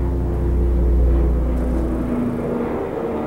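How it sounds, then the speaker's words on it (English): A small airplane passes overhead outdoors during a HIIT workout, a loud, steady low engine rumble and drone that fills the whole stretch without any talk. "I'm explaining this nice little airplane flying by."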